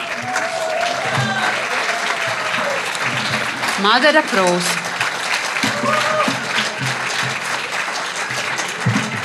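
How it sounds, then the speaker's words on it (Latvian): An audience applauds steadily throughout at a school's 80th anniversary ceremony, a dense wash of clapping in a hall while a presenter speaks a name over it. "Tagad jūs aplausus iesildījāties, ja?"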